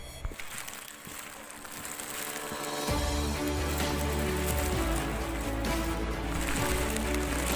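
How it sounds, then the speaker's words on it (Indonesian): Rain begins falling on a rocky mountain trail on Mount Lawu. A light patter swells into a steady, dense hiss after about three seconds and continues without a break. "hujan mulai turun dengan cepat"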